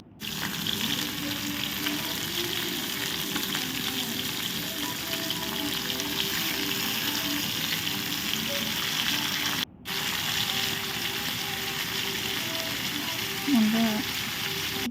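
A hilsa fish head fries in hot mustard oil in a kadai, giving a continuous, close, even sizzle throughout with a brief break partway and a faint clink near the end.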